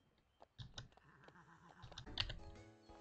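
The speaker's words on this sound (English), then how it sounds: "I hope that my key clicking is not" Computer keyboard keys clicking in quick irregular bursts during a ranch-themed game session, fairly faint and close, mixed with game sounds.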